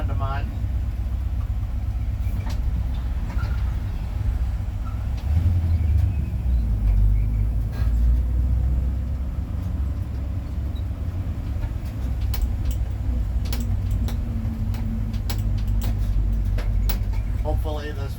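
Inside the cab of a 1960 Ford C600 cab-over truck on the move, a steady low engine drone and road rumble carry on for the whole ride, with brief rattles and a voice faintly under the noise.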